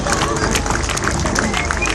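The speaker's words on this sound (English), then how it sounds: "come on, give them a wonderful welcome here" Outdoor crowd at the Weston-super-Mare air show clapping and cheering in a dense, continuous patter of applause, with chatter mixed in.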